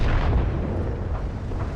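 Main gun of the T29 tank firing in World of Tanks: a loud, heavy boom that rumbles low and fills the whole short moment.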